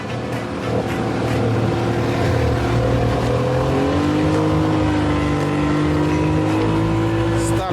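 Outboard motor on a Vydra boat loaded with 700 kg drones steadily at close range, its pitch rising slightly as it runs, with a low continuous rumble throughout.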